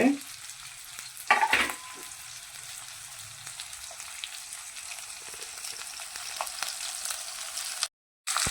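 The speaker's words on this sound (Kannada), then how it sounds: "ಈಗ ಇದೊಂಚೂರು ನೀರುಳ್ಳಿ ಬೇಯಲಿ" Onions frying in a pan for upma give a steady, close sizzle throughout, with a brief stirring scrape near the start and no talking.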